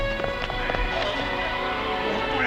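Rhythmic hoofbeats of horses running over a continuous background rumble, moderately loud and steady.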